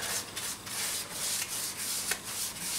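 Sandpaper rubbing back and forth over a painted wooden arcade cabinet panel between paint coats, a steady close scratchy hiss in repeated short strokes with no talking.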